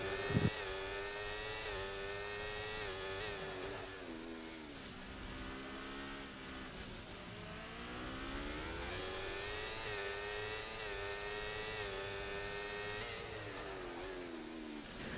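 Racing car engines in a Formula 1 video game race at Baku, Azerbaijan, hold a continuous high, buzzing whine that rises and falls through gear changes, loud and unbroken with no talk.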